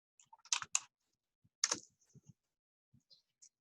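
Sparse typing on a computer keyboard, a few quick clusters of close key clicks separated by pauses and scattered single taps, faint against a silent background.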